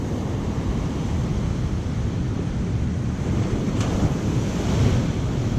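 Strong wind blows across the open ocean above a rip current, buffeting the microphone over a constant roar of breaking waves. The sound is loud and steady throughout, with no talking.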